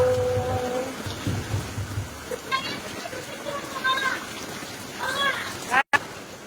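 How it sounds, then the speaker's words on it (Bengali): Heavy rain pours down continuously as a steady wash of noise, while someone talks over it and a short high-pitched call cuts in near the end. "কি বৃষ্টির জোর, কি বৃষ্টির জোর।"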